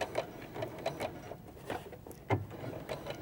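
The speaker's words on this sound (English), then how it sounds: "So now we can start sewing." A sewing machine runs back stitches and then stitches along skirt fabric edged with horsehair braid, making short, rapid mechanical bursts with brief gaps between them, close and clear in a quiet room.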